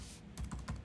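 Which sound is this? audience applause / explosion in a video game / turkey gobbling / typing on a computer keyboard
typing on a computer keyboard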